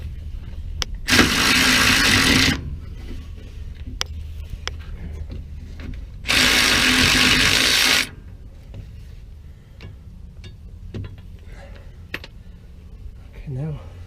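A 3/4 tool loosening a nut during a Roadmaster Reflex steering stabilizer install gives two loud, harsh whirring bursts of about a second and a half each, separated by quieter stretches with small clicks and knocks.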